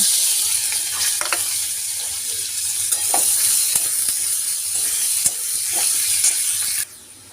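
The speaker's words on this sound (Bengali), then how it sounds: "পেঁয়াজগুলো ভেজে নেব।" Onions sizzle loudly and continuously in hot oil with bay leaf and whole cumin, with occasional stirring scrapes and small pops close by, stopping abruptly near the end.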